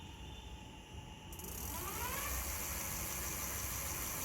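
Electric bike hub motor spinning up on throttle, a thin whine that rises in pitch after a quiet start and then holds steady, close and fairly faint.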